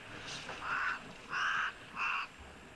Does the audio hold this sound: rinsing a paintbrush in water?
no